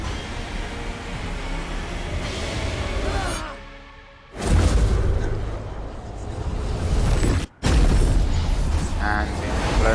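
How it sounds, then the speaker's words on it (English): Explosion in the final boss fight of Kena: Bridge of Spirits, a loud rumbling boom that swells, drops out briefly, then surges again with whooshing debris and a short cut near the end. "And the explosion."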